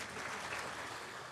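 Applause rolls through the hall at a presidential inauguration, a steady, dense wash of clapping from a large crowd with no clear breaks.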